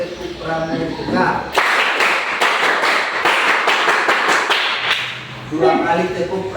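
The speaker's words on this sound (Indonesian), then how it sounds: "Sudah, 1 kali tepuk pramuka." A classroom group does a Pramuka scout clap, a loud burst of rapid rhythmic clapping that lasts a few seconds, with talking heard before and after it.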